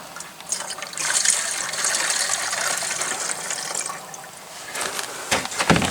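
Fluid from a Troy-Bilt rototiller carburetor bowl draining into a catch can, a continuous close trickle and splash that swells after the first second, runs steadily, then fades to broken dribbles with a few knocks at the end.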